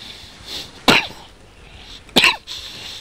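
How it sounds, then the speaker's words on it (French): Two sharp, close coughs from a person about a second apart, each a brief harsh burst against a quiet background. "ça m'évitera de vous tousser en pleine face."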